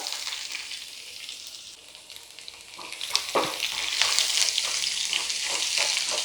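Crushed garlic dropped into hot oil for a Kerala jackfruit erissery sizzles steadily and loudly, with crackles and some stirring.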